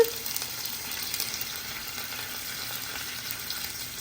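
Curry leaves and asafoetida sizzling in hot oil, a steady bright hiss of frying that stays even and close for the whole stretch, with no voices.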